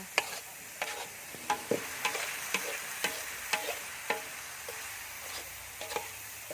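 Field rat meat being stir-roasted in oil in a pan, with a steady soft sizzle and a series of sharp scraping stirs at a regular rhythm, close up and with no talking.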